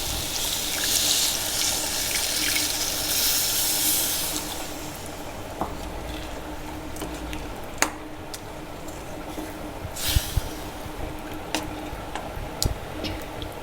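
Strained tamarind water pours steadily into a pot of fish curry with a broad gushing wash, easing off partway through, followed by a few small clinks and drips.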